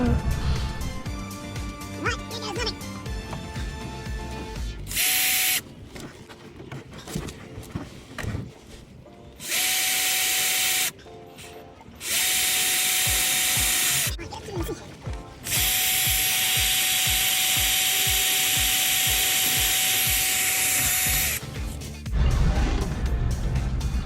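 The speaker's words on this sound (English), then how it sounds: "we're going to be drilling a hole through the roof of the boat." A power drill bores through the roof of a boat in repeated bursts of high-pitched whining, each run lasting a few seconds with pauses between, loud and close, after a stretch of ratcheting clatter.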